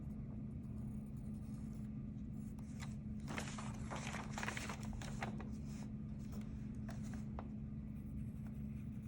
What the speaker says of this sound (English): you're going to trace the edges with your pencil